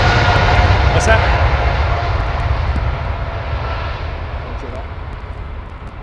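An Emirates Airbus A380 climbs away on a missed-approach go-around, its jet engines a loud, continuous roar that slowly fades as the aircraft draws away.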